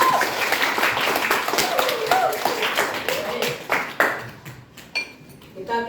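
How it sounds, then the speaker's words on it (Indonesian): Classroom applause from students after a lesson, a steady patter of clapping that thins into scattered individual claps toward the end, with a voice speaking over it. "Ya, kita aplaus dulu."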